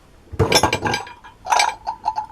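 Glass containers clinking and rattling as they are handled, in two close, bright bursts of chinks and knocks separated by a brief pause.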